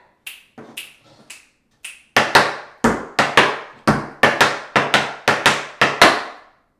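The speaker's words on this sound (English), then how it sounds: "2 flap heels, 4 flaps. Let's do it." Tap shoes strike a hard floor in a beginner routine of flaps and heels: a few light, scattered taps first, then a steady run of sharp, loud, evenly spaced beats.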